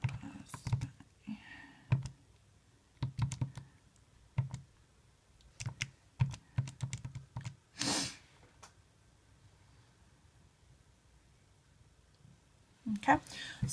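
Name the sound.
typing on a computer keyboard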